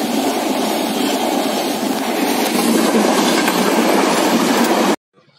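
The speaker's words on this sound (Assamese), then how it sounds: "ট্ৰেইনৰ গেট পেলাই থৈছে" Near a closed railway crossing gate, a train rushes past for about five seconds with a loud, continuous rumble and clatter of wheels, then cuts off abruptly into near silence.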